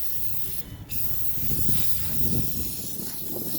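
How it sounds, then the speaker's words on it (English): Several bursts of detailing spray misted onto a car engine bay, the first a sharp hiss near the start followed by quieter continuing sprays over a steady background. "So just like that, just spray it on there."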